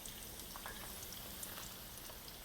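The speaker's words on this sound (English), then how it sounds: "Almost done frying." A steady, quiet sizzle with faint crackles and pops of eggplant balls frying in hot oil, continuous throughout.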